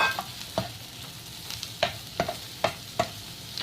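Onions, fried potatoes and fried capsicum sizzle in a pan over a slow to medium flame, with a spoon knocking and scraping against the pan in irregular strokes over a soft, steady frying hiss.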